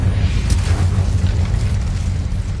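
A loud, continuous fiery blast from the Incendio fire spell in Hogwarts Legacy, a roaring low rumble that holds steady without a break for the whole stretch.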